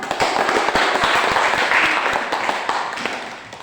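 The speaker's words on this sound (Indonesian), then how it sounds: "Kita berikan tepuk tangan." A class of students claps together in a classroom lesson, a short burst of sharp, fairly close hand claps that tapers off within a few seconds.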